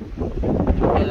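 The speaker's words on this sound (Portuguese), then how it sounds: "mesmo com esse vento que não dá trégua aqui" Strong, steady wind at an outdoor spot where a DJI Mavic 3 drone is being flown, a dense low roar buffeting the microphone without pause.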